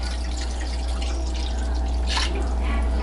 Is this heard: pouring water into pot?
yes